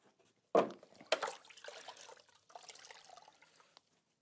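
Water splashing and rinsing off BAL Micromax3 ECO tile adhesive: two sharp nearby splashes, then softer dribbling and trickling that fades out, with no talking.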